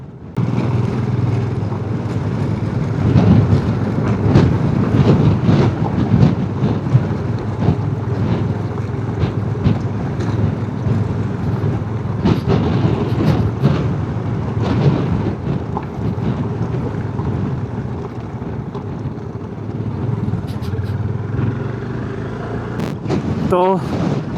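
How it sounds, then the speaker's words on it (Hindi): Strong mountain wind roars against a microphone on a motorbike ridden in Nepal's Mustang region, a continuous loud buffeting rush with engine rumble beneath and a few sharp gusts. "विंड ब्लास्ट इतना तगड़ा है कि बाइक ऐसे क्रॉस में चल रही है"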